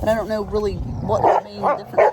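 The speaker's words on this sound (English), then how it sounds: "these dogs are totally out of control right now" Excited dogs barking and yipping while running around on a farmhouse property, close and loud, under a person talking.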